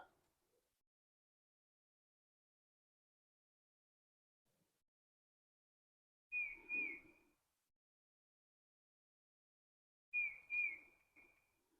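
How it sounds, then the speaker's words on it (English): Two short bursts of bird whistling outdoors in an otherwise quiet garden, each a pair of bright rising-falling notes, fairly close and clear. "The birds are going crazy."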